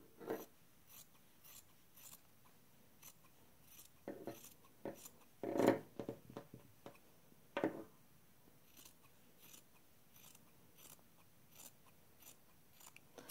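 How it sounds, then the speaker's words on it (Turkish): Scissors cut through fabric around a pinned pattern piece while a shirt is remade into a lace-trimmed blouse, giving a few sparse, close snips and crunchy cuts separated by quiet pauses, with no talking. "Bunu iğneleyip etrafından keseceğiz."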